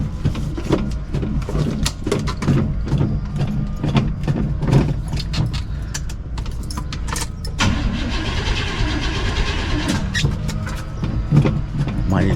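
Engine of a patina-covered box Chevy convertible that has sat all summer revving up under added throttle, loud and close, its rough rumble surging and rising in pitch over twelve seconds.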